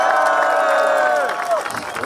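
A crowd at an outdoor cannabis rally cheers and applauds as a speaker is introduced, with loud sustained voices and whoops over a bed of clapping that thins out near the end.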